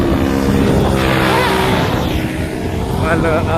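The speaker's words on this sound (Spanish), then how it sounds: "Hay una moto por allá pasando." A motorcycle engine revs and whines past, loud and close, over a rough outdoor rumble with voices talking throughout.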